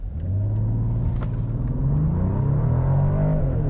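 A 362-horsepower 2022 Mercedes-Benz E 450 All-Terrain luxury wagon launches hard from a standstill, its engine swelling into a loud, steady rising roar and rumble, close and uninterrupted, with no voices over it.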